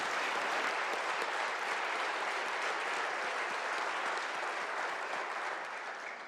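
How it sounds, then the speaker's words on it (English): Sustained round of applause from legislators in the West Virginia House chamber, a dense, even roar of clapping that holds steady for several seconds before beginning to fade, with no talking over it. "So I'd ask my colleagues to please join me in a round of applause for these fine, compassionate caregivers from around the state."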